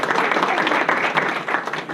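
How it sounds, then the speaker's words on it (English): A school governing board meeting audience applauds a student of the month and her parents, a steady wash of clapping from a room full of people lasting about two seconds. "round of applause, they deserve a lot of credit"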